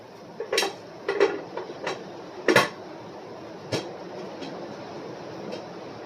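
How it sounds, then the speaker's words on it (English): A few metallic clanks and clinks as a lid settles onto a pot of beans being canned, over a steady background hiss. "now what I'm going to do is I'm going to put my lid on"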